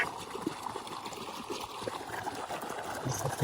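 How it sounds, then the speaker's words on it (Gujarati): Borewell water running on a farm, a soft continuous trickle and flow with light splashing, fairly faint and steady throughout. "આ બોરનું પાણી ચાલુ છે"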